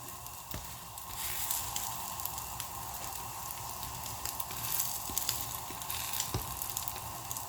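Steady soft sizzling of an egg paratha frying in a pan, a continuous crackling hiss with small pops, fairly quiet and with no talking.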